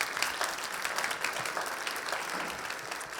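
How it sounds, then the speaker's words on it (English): An audience at a nursing and health policy event applauds a healthcare reporter, dense sustained clapping from many people filling the room evenly at a steady level. "Let's give Lila a round of applause."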